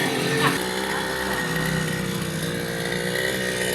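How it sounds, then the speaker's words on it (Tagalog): A new grass cutter runs continuously during a clearing operation, its engine whining with a steady, buzzing drone, loud and near, with no talk over it. "tunog ng bagong grass cutter"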